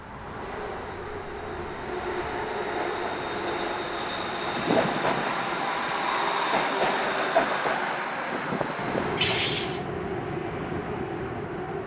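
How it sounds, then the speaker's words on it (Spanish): An elevated train in Bangkok rolls past with a steady rumble of wheels on rail, rising as it nears, with sharp metallic wheel squeals and clatter through the middle of the pass. "Se estableció un sistema de trenes elevados."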